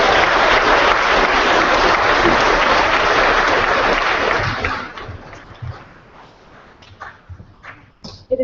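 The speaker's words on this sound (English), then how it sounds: "Give her a round of applause" A school audience claps loudly for a visit by Canadian Olympians, dense continuous applause that cuts off sharply after about four and a half seconds, leaving scattered shuffles, taps and room noise.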